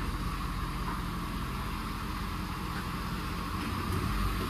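A Ford F450 Platinum truck engine runs steadily at a low, faint idle, a constant rumble with no change in pitch and no voices.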